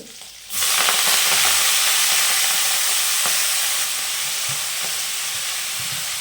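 Fresh fenugreek leaves drop into hot oil and fry with a sudden loud, steady sizzle that holds close and even, easing slightly toward the end.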